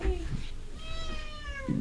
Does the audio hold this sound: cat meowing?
yes